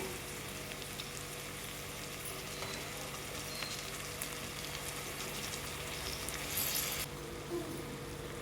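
Eggs and cooked rice being stirred together in a pot for egg dum biryani, a steady low sizzle running throughout with soft scraping mixing sounds, fairly quiet and with no talking.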